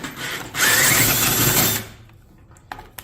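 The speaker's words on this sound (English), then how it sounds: "the plan is to use the bearing as a drill guide when I drill out these holes to the final size, 1/4 inch" A power drill bores holes out to 1/4 inch through a bearing used as a guide on a DIY mini excavator part, a loud close whine lasting just over a second before stopping, followed by a few faint clicks.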